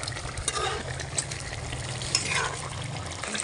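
Fish fries in a pan in a home kitchen, with a steady soft sizzle, a few small pops and occasional stirring scrapes, heard close up and moderately quiet.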